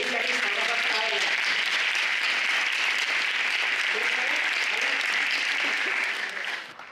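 An audience applauds a singer and pianist at a talk event, steady dense clapping filling the room at close range for several seconds, then fading slightly at the end, with faint voices mixed in beneath.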